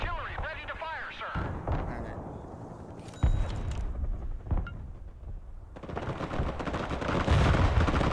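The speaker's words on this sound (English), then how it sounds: "Artillery ready to fire, sir." Artillery fire in the war game Broken Arrow: heavy booming bursts and rumbling gunfire, loud and layered, with a sharp blast near the midpoint and dense firing swelling toward the end, voices talking over it.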